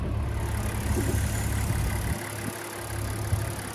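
A 2023 Lincoln Nautilus Black Label AWD with a 2.7-liter twin-turbo V6, its engine running in a steady low drone heard from inside the cabin, easing slightly softer partway through, with no talk.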